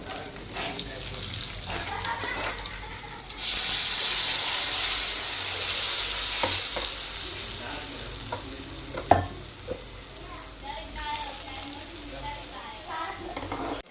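Onion with cumin and turmeric powder fries in a pan, a hiss rising abruptly then steady sizzle with stirring scrapes and a sharp clank, fading to quieter crackling with a voice talking briefly.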